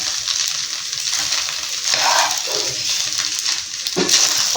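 Egg rice with cooled cooked rice being stirred and fried in a pan on a stove, giving a steady close sizzle with soft scraping stir sounds throughout.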